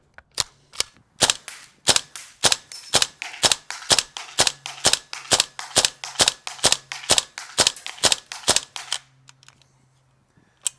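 A gas-powered airsoft AK rifle fires about thirty sharp, loud pops at a steady moderate rate, each with a quick metallic snap, followed by a few faint clicks after the string ends.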